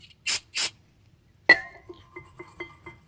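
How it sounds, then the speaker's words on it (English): Brake cleaner sprayed onto car brake parts near the rotor, two short, sharp hissing bursts in quick succession, followed by a metallic clink and a few light tinkling taps. "let's go ahead and spray this."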